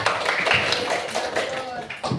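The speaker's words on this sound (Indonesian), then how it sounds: "Tepuk tangan dulu buat Apipa" Classmates clap for a student in a classroom, a short rapid patter of hand claps with voices over it.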